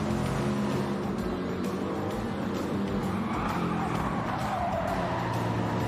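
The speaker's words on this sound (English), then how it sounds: "you can hear those tires just a squealing from the three of those cars" Race cars in Gran Turismo 7 squeal their tires continuously through corners at Suzuka, with dense engine roar underneath and several cars close together.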